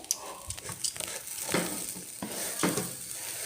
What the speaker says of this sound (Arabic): بعد ما قلبناه حلو مع البهارات.